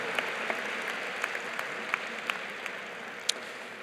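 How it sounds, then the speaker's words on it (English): Graduation crowd at a high school ceremony applauds teachers and staff, a soft, distant wash of clapping from a large hall with a few sharper individual claps standing out. "Let's give them a round of applause."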